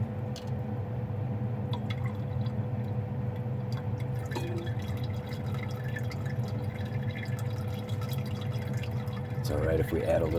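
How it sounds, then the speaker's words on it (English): Water splashes and drips as refined silver crystals are rinsed, with soft liquid trickles and dribbles over a steady background hum, followed by a brief bubbling pour near the end. "Give it a quick rinse here. Get the vast majority of our solution out."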